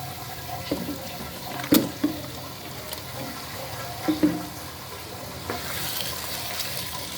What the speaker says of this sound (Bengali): মশলা খুব ভালো করে কষিয়ে নিয়েছি এখন দিয়ে দেবো গরুর মাংস